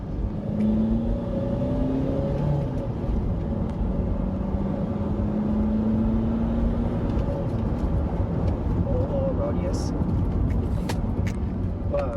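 A modified Chevrolet Cruze 2.0 diesel with a manual gearbox pulls hard under acceleration, giving a loud, steady engine drone with rising tones heard from inside the cabin.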